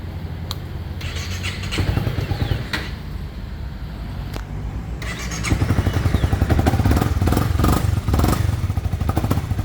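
A 1990s-era two-stroke 150cc motorcycle with a factory-style exhaust being started: loud close cranking bursts, then the engine catches into a rapid, buzzing idle with revving pulses, no speech.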